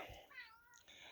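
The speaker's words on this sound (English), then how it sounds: "Oh, and there's Baymax, the garden cat." A garden cat meows outdoors: one soft, drawn-out, slightly wavering call, quiet and at some distance over faint background hiss.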